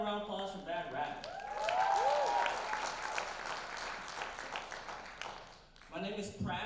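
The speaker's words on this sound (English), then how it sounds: "Give it up another round of applause for Bad Rap." An audience at the Philadelphia Asian-American Film Festival applauds the documentary Bad Rap after a screening. The clapping swells loudly, then tapers off, with a speaking voice heard over and after it.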